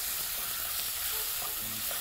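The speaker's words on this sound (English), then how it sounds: "you're going to be frying that on high heat" Goat ribs and onions sizzle and crackle steadily in a pan on high heat, a dense continuous frying hiss with no voices.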